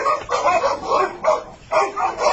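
A dog barks in a quick series of short, close, fairly loud yaps with brief gaps between them.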